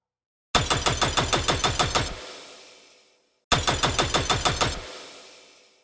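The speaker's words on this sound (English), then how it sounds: "two knives being scraped on one another, and the gunfire of an AK-47" Two bursts of rapid automatic gunfire, an AK-47 layered with two knives scraped together for a video game weapon, each a quick run of about a dozen sharp shots ending in a rough metallic ring that fades out.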